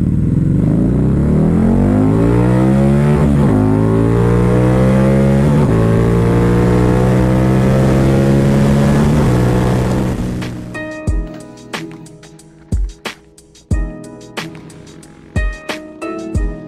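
Harley-Davidson V-Rod motorcycle pulling hard from a roll, its engine revving up loud and close through several gear changes before easing off, followed by scattered knocks and clunks.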